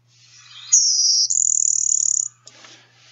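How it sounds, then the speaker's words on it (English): A blue-winged warbler sings its buzzy song, a thin high insect-like buzz followed by a second, rougher buzz, clear and fairly close with faint background noise. "The blue wing warbler, this guy here, has kind of this like bzz,"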